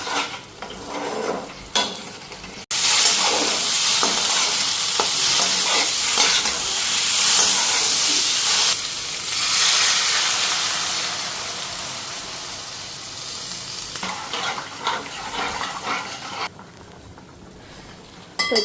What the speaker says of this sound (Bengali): মশলাটা ভালো করে ভাজা না।